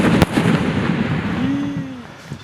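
Firecrackers go off during Diwali around a cracker shop, with a sharp bang at the start followed by crackling bursts and a rising whistle over a noisy, busy background.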